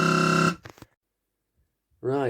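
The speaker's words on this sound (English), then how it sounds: "Sometimes this reel does touch the board and alarm as well." A Maygay M1B fruit machine with a reel fault sounds a loud steady electronic buzzer alarm for half a second, followed by a few faint clicks, silence, then the buzzer tone returns.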